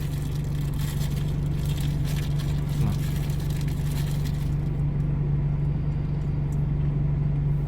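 A combine harvester's diesel engine runs steadily in a rice field at Det Udom, giving a loud, continuous low hum that stays even throughout, with no voices.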